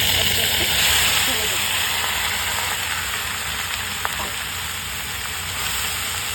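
Dheki saag greens sizzling and hissing steadily in a hot pan as they are stir-fried, a continuous close frying sound with faint stirring scrapes.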